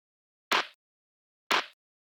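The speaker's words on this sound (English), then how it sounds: "short and crunchy, kind of like very organic sounding clap." A short, crunchy, organic-sounding clap sample sounds twice, exactly one second apart, each a dry, tight burst against silence.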